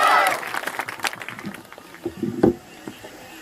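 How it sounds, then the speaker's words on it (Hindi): A crowd at an ashram gathering applauds to welcome Maharaja Scindia, a brief burst of clapping at the start that quickly thins into scattered claps and murmured crowd noise. "तालियों के साथ स्वागत करेंगे महाराजा सिंधिया"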